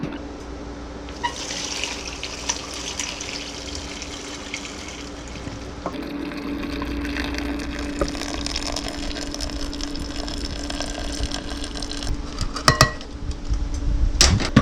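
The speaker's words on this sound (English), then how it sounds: "we're going to pour the chicken stock down in it." Chicken stock poured into a pan on a Traeger pellet grill beside a spatchcock chicken makes a continuous liquid splashing and gurgling, growing busier toward the end with a few sharp clinks.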